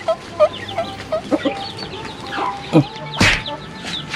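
Several chickens cluck in short repeated bursts, fairly close, with one louder squawk near the end; no talking.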